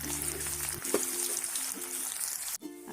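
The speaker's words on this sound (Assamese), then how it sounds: "পিঁয়াজখিনি মই ৰঙচুৱা হোৱালৈকে ভাজি ল'ম।" Onions sizzle steadily in hot oil in a wok while being fried for an Assamese-style pork curry, a close, continuous crackling hiss with a brief clatter and a short break near the end.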